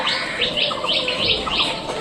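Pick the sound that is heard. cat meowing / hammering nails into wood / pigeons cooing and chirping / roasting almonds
pigeons cooing and chirping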